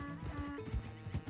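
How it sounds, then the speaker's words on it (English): Faint, close horse hooves clip-clop in a short, uneven cluster of soft thuds on a farm, with a low tonal hum running underneath. "Imagine seeing a stark white horse and then a painted donkey running around outside your farm."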